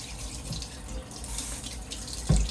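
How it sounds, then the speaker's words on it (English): Tap water runs steadily into a kitchen sink as hands are washed under it, a close, even splashing hiss with a small thump near the end. "Wash my hands real quick."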